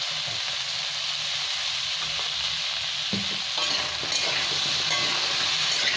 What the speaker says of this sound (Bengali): টমেটো দিয়ে দেবো। এটা একটু ভাজা হোক।